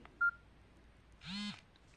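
A Samsung phone powering off gives a short, sharp beep followed by a brief rising-and-falling electronic chime, both close and clear against near silence.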